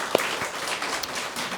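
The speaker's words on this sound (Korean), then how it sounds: "선생님에게 두 분 선생님에게 박수 한번 쳐주시기 바랍니다." A church congregation applauds two teachers during a Sunday morning service, steady clapping from many hands with a few sharper individual claps standing out near the start.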